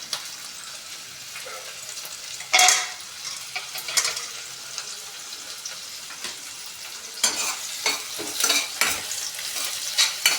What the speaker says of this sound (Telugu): నేను జీలకర్ర వేస్తున్నాను.